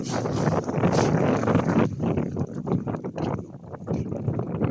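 Wind gusts buffet the microphone on a riverside in Finland, loud rushing bursts that swell and ease irregularly through the stretch, with no clear voices.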